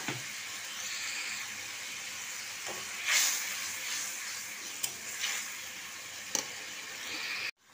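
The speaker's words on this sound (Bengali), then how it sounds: "এবার এতে আম তেলের কাইটা আর বাদবাকি তেলটা দিয়ে দিচ্ছি।" Mango pickle paste and oil hit a hot pan, giving a soft steady frying sizzle with a brief louder hiss burst midway and a few light clinks, no voices, ending abruptly.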